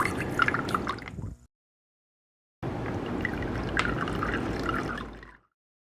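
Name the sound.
pouring vinegar over eggs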